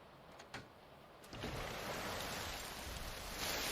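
Rain falls in an animated episode. After a quiet start with a couple of soft taps, it swells into a steady, even hiss of rainfall that stays moderately quiet throughout.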